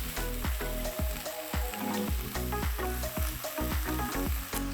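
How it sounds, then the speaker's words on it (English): Sausages and bacon fry in a pan, giving a steady close sizzle with crackling pops. A repeating low thumping runs under it, and no one speaks. "we're just gonna continue to fry off the sausages until we get more color on them then"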